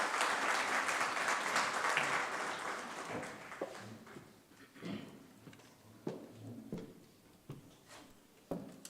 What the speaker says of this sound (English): As a big round of applause,